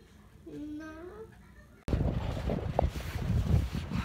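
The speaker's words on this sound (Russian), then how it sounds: "На улице такой ветер" A brief wavering tone gives way to gusty outdoor wind buffeting the microphone, a loud rushing rumble that lasts to the end.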